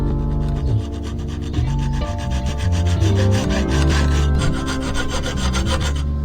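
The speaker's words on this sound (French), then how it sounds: "je vais pouvoir couper la tige de métal avec la scie à métaux" Rhythmic back-and-forth strokes of a hacksaw biting through a metal rod, each pass rasping with a ringing, pitched scrape, close and steady.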